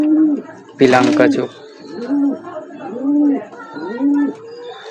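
Dobaj line pigeons coo in a home loft, several soft rolling coos repeating at a steady pace close by, with someone speaking briefly over them near the start.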